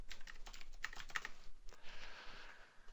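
Computer keyboard typed rapidly while entering code for an asteroids game, with dense bursts of clicky keystrokes, a brief pause, then more steady typing, close and alone.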